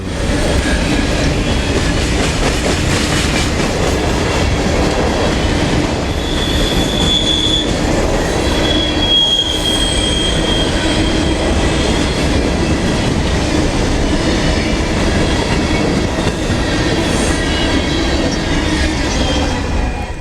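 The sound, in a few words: freight train passing with squealing wheels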